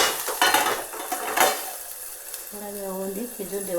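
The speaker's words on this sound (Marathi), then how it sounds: "मस्त मम्मीने कांदा आणि वाटाणे टाकून घेतलेत. आता थोडं परतवून घेते मम्मी." Onions and peas sautéing in a pan, with a few scraping stirs and clinks of a spoon against the pan over a soft sizzle; the food goes quiet midway before a brief tonal sound.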